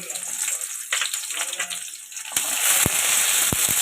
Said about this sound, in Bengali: ওই তেলের মধ্যেই আমি পেঁয়াজ দিয়ে দিলাম